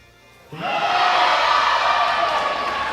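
A crowd at the 2024 World Classic Powerlifting Championships, men's 105 kg B-Group, erupts into loud, sustained cheering and shouting for a lifter's final squat after a quiet half-second start.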